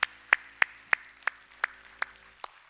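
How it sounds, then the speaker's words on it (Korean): A few people in a church congregation clap slowly, about eight distinct claps in a steady rhythm, close and fairly faint, with a quiet hum underneath and no voices. "우리 하나님께 영광의 박수합시다."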